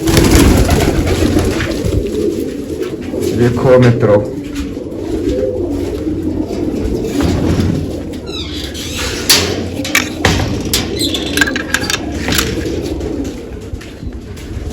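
A hobbyist's domestic pigeons coo close by, low repeated calls over a busy background with scattered clicks and knocks, while someone speaks briefly.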